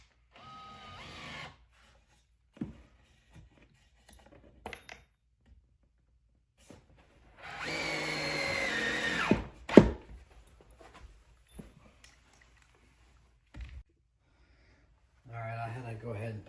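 Miter saw cutting a wooden board at a 22.5-degree miter while framing a wall in a bonus room remodel; a single loud, steady cut of about two seconds, set among scattered clicks and handling thumps, with a shorter burst near the end.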